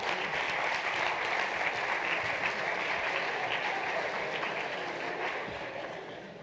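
Audience applause at a university entrepreneurship talk, a dense sustained clapping from a large crowd that stays loud throughout and fades slightly toward the end.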